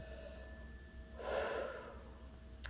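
A single deep breath let out slowly, a soft whooshing exhale rising and fading over about half a second in an otherwise quiet room.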